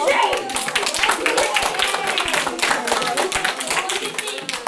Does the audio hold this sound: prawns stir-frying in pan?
no